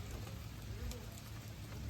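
Steady rain falls at a mountain rest area near Mount Arayat, a soft continuous patter with low rumble, fairly faint and without talk.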